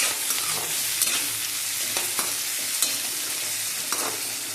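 Chopped tomatoes being sautéed for mushroom bhaji, with a steady close sizzle of frying and occasional clicks of a spoon stirring the pan, with no talking.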